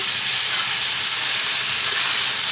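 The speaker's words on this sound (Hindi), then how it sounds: "फ्राई करते जाएंगे इसी के अंदर हम मटर भी ऐड कर देंगे ये हमने तीन वेजिटेबल को एक साथ फ्राई किया है" Mixed vegetables with peas and corn fry in a pan, a steady loud sizzle that holds unbroken with no talk over it.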